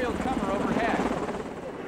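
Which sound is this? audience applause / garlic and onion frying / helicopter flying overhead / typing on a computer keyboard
helicopter flying overhead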